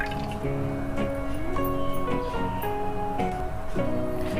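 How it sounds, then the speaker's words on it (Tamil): Yogurt (curd) is poured into a cup for a thayir pachadi, with close, wet glugs, plops and drips repeating unevenly over a few seconds and no voice over them. "ஒரு கப்பு வந்து வந்து இப்போ தயிர் நம்ம ஊற்றிக்கிடுவோம்"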